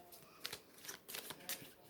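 Tarot cards are shuffled in quick, crisp riffling bursts, four or five short flutters spaced a beat apart, close and fairly quiet with no talking.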